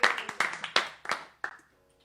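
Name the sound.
applause and clapping during livestream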